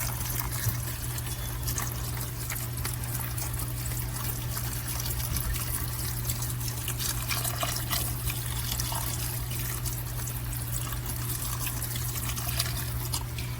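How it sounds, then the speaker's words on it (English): Vegetable stock pours steadily into a pot in a continuous trickling stream for several seconds, close and fairly quiet, with no talking. "now we are going to put in our whole 32-ounce container of our vegetable stock"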